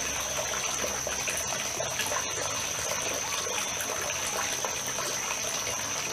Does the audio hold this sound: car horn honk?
no